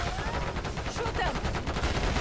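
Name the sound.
gunfire in the video game Call of Duty: Black Ops 6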